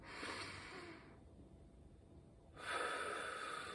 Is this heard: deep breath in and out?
yes